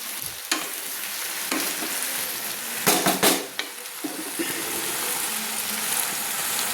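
Malabar spinach with mustard paste frying in hot oil over a high flame, a continuous loud sizzle broken by a few sharp metallic stirring clatters of the spoon against the pan.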